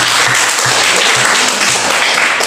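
Loud group applause at a school teachers' coaching session, a dense, continuous patter of many hands with faint low murmuring beneath, steady throughout.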